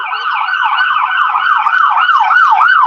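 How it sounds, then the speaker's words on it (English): An ambulance siren wails steadily and loudly, its pitch sweeping up and down in a regular rising-falling pattern as it passes close by on the road, with no talking over it. "ambulance"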